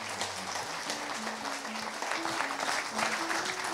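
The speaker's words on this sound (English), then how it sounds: "Please, a round of applause, please welcome up His Royal Highness Prince Abdullah." Audience applause fills a launch event for the Saudi Cup horse race, a steady dense clapping from a crowd that holds throughout at moderate level, with a few tonal notes of background music running underneath.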